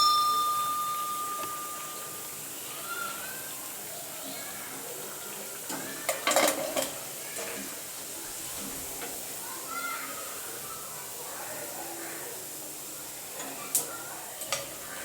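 Masala vadai frying in hot oil, a soft continuous sizzle with a few sharper clinks and stirring bursts from a pan, heard close with no talking.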